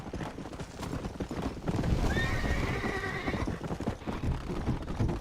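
A horse in the video game Red Dead Redemption whinnies in a long, shaky neigh amid rhythmic clip-clop hoofbeats, the hooves continuing steadily before and after the call.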